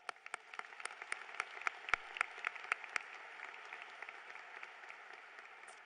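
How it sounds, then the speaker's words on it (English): Crowd applause at a 2019 high school graduation ceremony, a faint, dense patter of many hands clapping with a few sharper claps standing out, carrying on steadily throughout. "Let's give them a round of applause."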